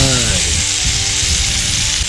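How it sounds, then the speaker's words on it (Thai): Beef seared in a hot pan at a campsite gives a steady, close sizzling hiss that runs the whole time under someone talking. "ตอนนี้กระทะเราร้อนได้ที่แล้วนะครับ ผมจะใส่เนื้อลงไป"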